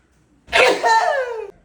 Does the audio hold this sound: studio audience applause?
no